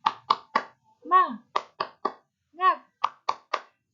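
A first-grade class does the 'tepuk semangat' clapping chant: sharp claps in quick sets of three, with a short sung chant of voices between the sets, crisp and close in a quiet room.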